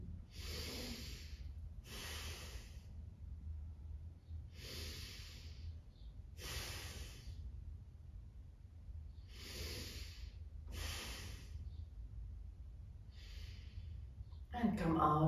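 Slow, deep breaths are taken during a yoga balance pose, each airy inhale and exhale lasting about a second and separated by calm pauses over a low steady hum, close and quiet.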